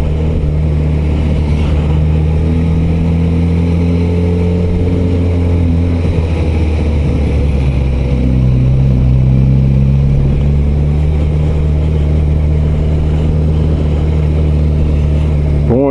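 Suzuki GSX-S 1000 GT motorcycle engine running steadily on a ride, a loud close drone with strong low harmonics that dip and rise again as the revs shift midway.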